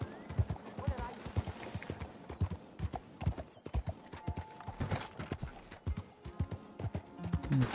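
Horse hooves clip-clop in Red Dead Redemption 2 Online, a steady rhythmic trot of loud, close hoof strikes with a brief whinny and faint background game sounds.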